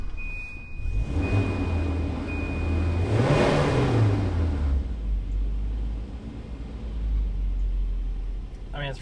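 A car engine idles and briefly revs after a fuel pump repair, a steady low rumble that swells and falls back, close by, with a high whine and a warning chime fading early.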